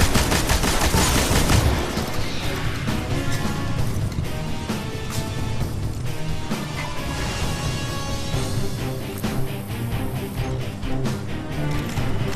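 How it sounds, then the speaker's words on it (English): Sustained, dense gunfire from an enemy Captain in the Destiny video game during a solo Nightfall strike, with loud bursts throughout and a heavy barrage in the opening seconds. "And of course, Captain's going to start shooting for no reason."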